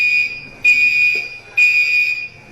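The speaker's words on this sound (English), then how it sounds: "we're live here at Mickey D's, and the fire alarm is going off." A fire alarm sounds inside a McDonald's restaurant, a loud, piercing electronic tone pulsing in two long blasts with a brief dip between them, and no voices.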